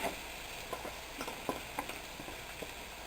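Strained cooked meat and onions sizzle in a pan while being stirred, a steady frying hiss with soft scraping taps of the utensil.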